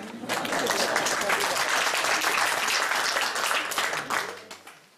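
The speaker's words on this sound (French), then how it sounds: "Oui, il mérite l'applaudissement." An audience bursts into brisk applause that holds steady for several seconds, then thins and fades out near the end.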